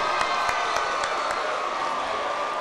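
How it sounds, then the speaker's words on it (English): High school students in an assembly applauding and cheering for a visiting guest, a loud continuous crowd roar with scattered sharp claps and whoops throughout. "Give him another big round of applause"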